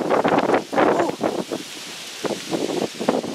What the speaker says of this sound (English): Even windier up here.